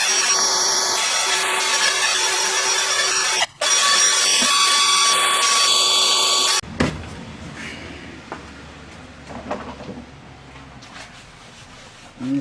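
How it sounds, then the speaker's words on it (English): A Scotch-Brite pad on a lawnmower engine's piston top gives a loud, steady powered whine with a short break, then quieter intermittent scrubbing and scraping strokes close by. "just hit it with a little bit of Scotch-Brite"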